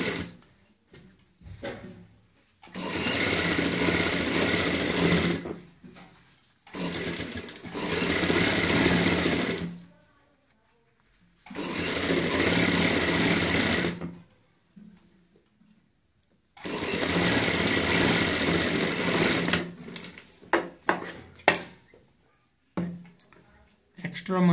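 Sewing machine stitching a high-neck kurti collar, four loud bursts of rapid motor whirring separated by pauses, with someone talking between the runs.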